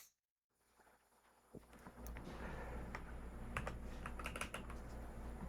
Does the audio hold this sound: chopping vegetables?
no